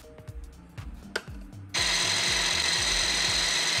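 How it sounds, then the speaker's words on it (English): A grinder purees thinly cut beef: after some knocking and handling noises, a loud, steady whirring motor starts abruptly and runs on without pause to the end, with no talking. "Get the grinder ready to puree the beef."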